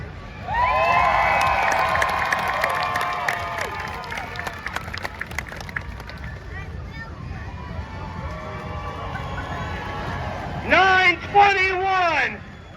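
Fairground demolition derby crowd in Perth, Ontario cheering and applauding for car 296, a sustained wash of cheers and claps with an announcer talking between bursts and a sharp swell of shouting near the end.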